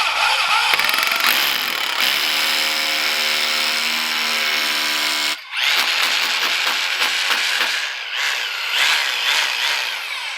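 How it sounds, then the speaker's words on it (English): A hammer drill bores into concrete with a loud, close, continuous grinding whine, pausing briefly midway before resuming with rougher, pulsing impacts. "If you say drill concrete, there's only one tool that does the job well."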